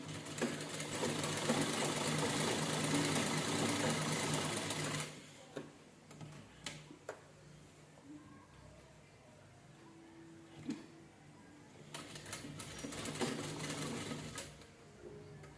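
A sewing machine stitches a standing princess blouse, a close steady mechanical whir for several seconds that stops, then quiet handling clicks before the machine briefly runs again.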